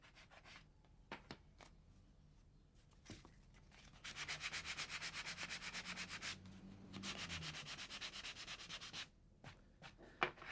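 Steady back-and-forth sanding strokes scrub across a painting surface in long stretches, with a few sharp clicks and taps between passes.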